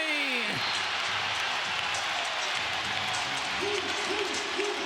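Detroit Pistons home crowd in a basketball arena roaring and cheering loudly and steadily throughout, with a commentator talking over the noise.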